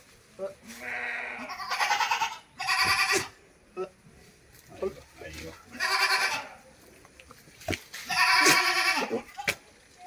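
Two male goat kids for sale at a livestock market bleat loudly in repeated short, wavering calls, some overlapping, with people talking nearby between cries.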